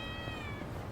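A cat meows in the video game Yakuza: Like a Dragon, a single drawn-out, slightly falling mew heard close and clear over a low, steady game background.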